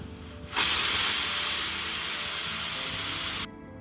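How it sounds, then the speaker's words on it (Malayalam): Pressure cooker on a kitchen stove releasing steam, a sudden loud hiss that starts abruptly, holds steady and strong for about three seconds, then cuts off sharply. "ഇതിൽ വിസിലൊക്കെ വരുന്നുണ്ട്, ഒരു തുള്ളി പോലും പുറത്ത് പോകുന്നില്ല"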